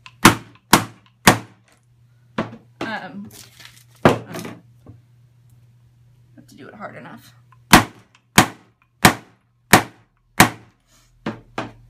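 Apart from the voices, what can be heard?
hammer striking leather punch through capiz shell sheets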